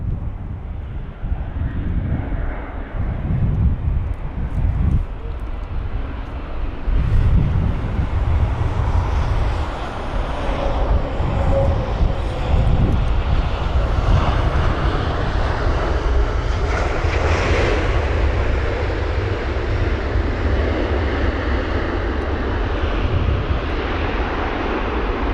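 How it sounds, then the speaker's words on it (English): A China Southern Airbus A350-900 arriving from Beijing lands at London Heathrow in windy conditions, its engines roaring steadily and broadly for the whole stretch with gusty wind noise across the microphone. "that was China Southern, or CZ673, that's the flight number, and that was the A350-900 from Beijing"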